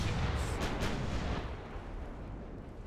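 A single heavy battleship gun blast from Ultimate Admiral Dreadnoughts booms loud and deep, then rolls away into a long fading rumble.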